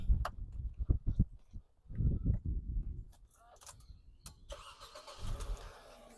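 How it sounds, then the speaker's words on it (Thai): A 2003 Mercedes-Benz W203 engine is started, with muffled knocks and a short crank before it catches and settles into a faint, low idle, heard quietly from nearby. "เดี๋ยวเรามาดูในส่วนของห้องเครื่องแล้วฟังเสียงเครื่องยนต์กันบ้างนะครับผม"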